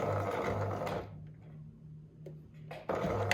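A sewing machine stitches bias binding onto a jacket in rapid, steady bursts, pausing briefly in the middle before running again, close and clear.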